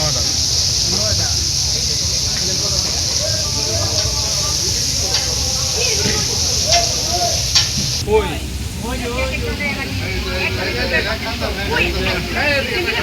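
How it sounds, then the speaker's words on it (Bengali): Fish frying in a pan during an outing with friends makes a loud, continuous hissing sizzle with stirring scrapes, steady throughout, while people talk over it. "সোহেল ভাই মাছ ভাজি করতেছে"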